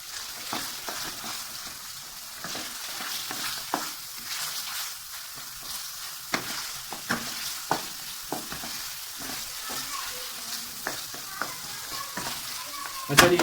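Chicken sizzles and fries in a hot pan for aloo chicken shorba, a steady moderate crackle with frequent clinks and scrapes of a spoon stirring, close by and with no voices.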